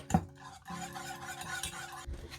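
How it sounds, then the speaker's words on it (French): A Thermomix stirs a warm New York cheesecake mixture, giving a soft continuous churning and rubbing hum with a light clink at the start, fairly quiet and close. "Il faut remuer 1 minute."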